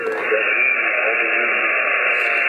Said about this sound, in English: Now let's turn the noise canceller off and just go to the notch filter.